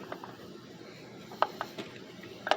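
Ratchet tightening bolts to snug an ignition coil down on a 2007 PT Cruiser, a few quiet, sharp clicks spaced through a short, faint stretch over low background hiss.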